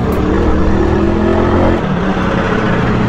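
A Suzuki Raider 150 with a carburetor accelerating, its engine note rising steadily and holding loud and close throughout, with a slight dip near the end.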